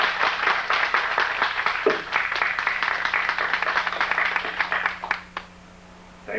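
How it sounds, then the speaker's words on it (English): Audience applause at a talk on criminal justice, a steady round of clapping from a seated crowd that tapers and stops near the end, leaving a faint hum. "Give a round of applause for her."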